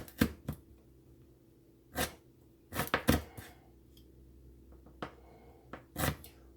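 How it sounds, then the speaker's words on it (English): A knife chops ginger on a board for stewed goat: scattered, irregular thuds, some single and some in quick pairs or triplets, with quiet pauses between, close and clear. "we're going to go ahead and cut our ginger"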